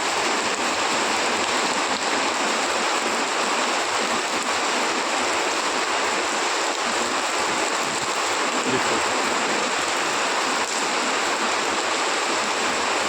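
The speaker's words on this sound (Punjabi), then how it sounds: "ਦੇਖੋ ਜੀ ਪੂਰਾ ਤੇਜ਼ ਛਾਟੇਦਾਰ ਮੀਂਹ" Steady, dense rush of heavy rain pouring down at night in Mansa district, Punjab, a constant broadband hiss with no breaks and no voices.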